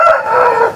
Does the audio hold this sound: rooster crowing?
yes